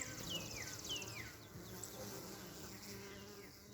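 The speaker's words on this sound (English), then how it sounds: "watch the bees as they're coming in" Honey bees fly in to their hive entrance, some carrying pollen, making a steady close buzzing drone with a few brief higher whines from individual bees passing the microphone; no talking.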